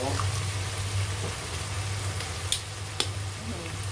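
Three eggs frying in a pan alongside pork for a Thai stir-fry: a loud, steady sizzle and crackle fills the whole stretch, broken by a couple of sharp pops near the end.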